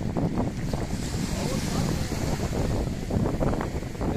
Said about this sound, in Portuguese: Começou um vento forte agora,